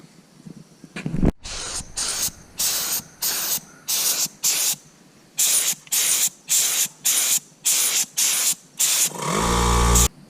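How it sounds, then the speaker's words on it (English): An air paint sprayer lays orange paint on a school bus in a steady series of loud, hissing bursts of about half a second each, ending in a longer blast. "now I'm going to spray the first coat of the second color, second stripe."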